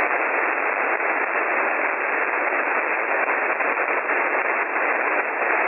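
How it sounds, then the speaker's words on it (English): Steady band-limited hiss of radiated noise on an amateur radio band, constant and loud throughout, with slight fluctuations but no voices or tones. "That's the radiated noise"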